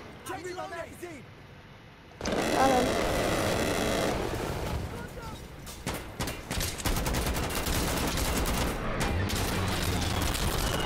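Rapid gunfire from a close-quarters firefight in the Insurgency: Sandstorm video game, with dense automatic bursts and shots rattling almost continuously over the second half, loud and near, while a player speaks briefly at the start.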